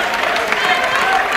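Teammates cheer and clap from the sideline at an indoor badminton match, a brief burst of lively crowd noise, with a commentator talking over it.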